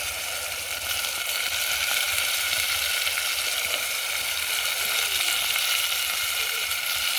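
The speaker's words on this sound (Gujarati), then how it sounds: "હવે આપણે રીંગણા બટાકા નાખી દેવી." Eggplant and potatoes fry in hot oil, a steady loud sizzle and crackle that runs unbroken throughout, close up with no talking.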